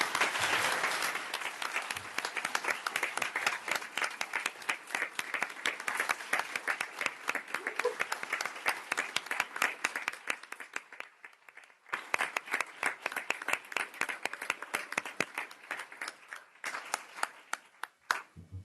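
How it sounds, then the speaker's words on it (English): Sustained audience applause at a school district board meeting, dense steady clapping from a room full of people lasting many seconds, with a brief dip midway before continuing. "So please help me give Member Rodriguez and Member Gustavo Arroyo a round of applause"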